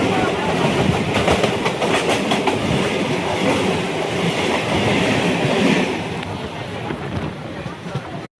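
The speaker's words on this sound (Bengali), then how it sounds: "দেখো তারকেশ্বর স্টেশনে ট্রেন ঢুকছে" A Tarakeswar-Howrah local train rolls loudly into Tarakeswar station, with a continuous rumbling roar and rhythmic clickety-clack of wheels over rail joints, heard close from on board and easing slightly toward the end.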